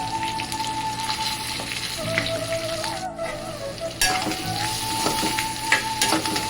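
Chili, onion, ginger garlic paste, turmeric, salt and curry leaves frying in a pan for an okra masala curry, a steady close sizzle with occasional stirring scrapes, no talking.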